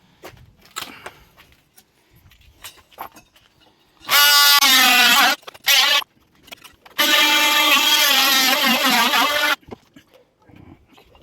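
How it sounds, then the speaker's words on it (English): An oscillating multi-tool cuts around a newel post on an existing staircase in two loud, buzzing runs of a second or more and a few seconds, separated by brief pauses and quieter handling noise. "The rest of it, hopefully, we can get with the multi-tool."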